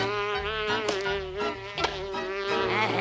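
A cartoon fly buzzes around in a whiny, wavering drone that rises and dips as it circles close by, continuous for a few seconds with no voices.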